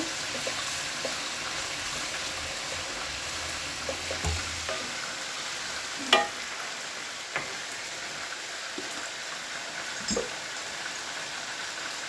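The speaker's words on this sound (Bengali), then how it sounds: "পেঁয়াজ ভাজা হয়ে গেছে এখন মশলা দিয়ে দিচ্ছি আদা রসুন এটা একটু ভাজা ভাজা করবো" Ginger garlic paste fries with browned onions in a pan, a soft continuous sizzle with occasional clicks and knocks of a spoon against the pot.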